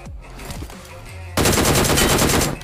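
DP light machine gun fire in a battle royale game, a few quiet tones and thuds first, then an abrupt loud burst of rapid automatic shots that keeps going steadily to the end.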